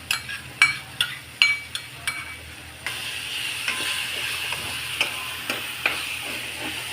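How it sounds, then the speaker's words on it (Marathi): Masala and yogurt frying in oil in a pan: a run of sharp utensil clanks and stirs first, then a steadier close sizzle with occasional scraping stirs, no voices. "हे आपल्याला छान फ्राय करून घ्यायचं आहे तेल सुटत असतोपर्यंत"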